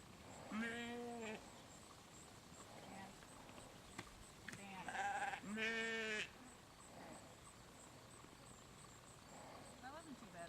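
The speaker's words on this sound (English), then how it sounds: "they're fetchy sheep" Sheep out on a herding-dog trial field bleating in several short, wavering calls, a pair of louder bleats near the middle and fainter ones scattered around, heard against a quiet outdoor background.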